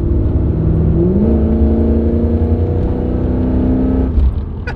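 A Holden VK Commodore with a 308 V8 and three-speed gearbox revs loudly and close by, its deep throaty engine note climbing and holding, then dropping near the end.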